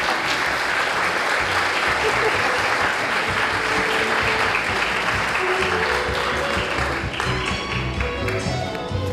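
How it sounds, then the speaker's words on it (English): Audience at a teacher of the year awards event breaks into sustained, dense applause that fills the room, with a few voices and cheers rising near the end. "Let's give them a round of applause."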